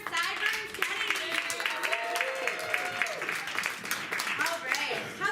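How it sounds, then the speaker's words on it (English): An audience applauds at an improv show, a dense patter of clapping that runs throughout, with someone talking over it. "One more round of applause for Sideburns Kennedy."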